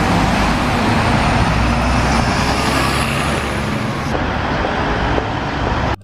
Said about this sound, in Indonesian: Wah, kalau yang ini mobil double decker teman-teman. Bus 2 tingkat.